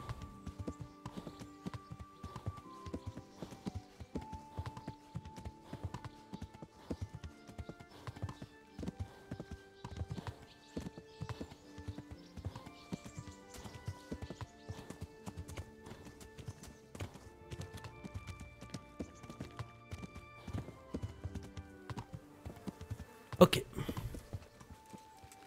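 Steady rhythmic clip-clop of a horse's hooves in the medieval video game Kingdom Come: Deliverance, moderately quiet and continuous, with a brief louder burst near the end.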